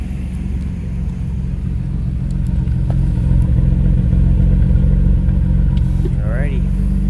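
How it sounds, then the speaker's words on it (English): A 1990 Nissan Skyline GT-R with its RB26 engine idles steadily up close, a low continuous rumble with faint ticking of the injectors and lifters, while a person talks over it. "RB26, she sounds a little, because it's all lifter engine, and you can hear the injectors normally"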